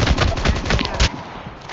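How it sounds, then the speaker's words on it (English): Rapid bursts of automatic gunfire crackle in a shooter video game, a dense string of sharp shots for about a second before stopping abruptly, leaving quieter background. "See, they're shooting at you."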